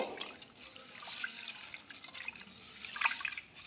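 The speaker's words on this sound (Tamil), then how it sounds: "இதில் வந்து நல்லா இந்த மாதிரி வாஷ் பண்ணிவிட்டு நல்ல தண்ணியில் ஊற வச்சுக்கோங்க" Urad dal is washed by hand in a vessel of water, with soft splashing, sloshing and dripping close up in a quiet kitchen.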